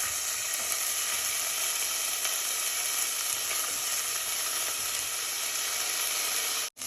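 Ginger garlic paste sizzles steadily in a hot pan while jeera rice is being cooked, a continuous bright hiss of frying that holds even and close throughout with no talking.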